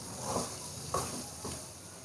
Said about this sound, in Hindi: अरबी की अच्छी तरह से भुनाई करेंगे ताकि जो मसालों का टेस्ट है वो अरबी में आ जाए